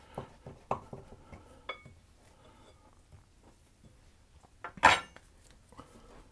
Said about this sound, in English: And I'm going to cut off about 1/4 of that.